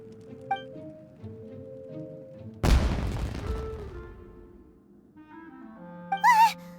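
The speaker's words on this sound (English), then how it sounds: "Was that an explosion? It sounded like fireworks." A single firework explosion in the video game Genshin Impact bursts with a loud boom and a decaying crackle partway through, set over quiet tonal game music that rises to a brief whistle at the end.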